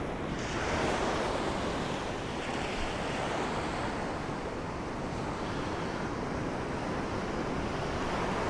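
Ocean waves wash continuously onto the shore at Fan Shell Beach on the 17-Mile Drive coast, a steady, loud roar of surf mixed with gusty wind buffeting the microphone, with no voices.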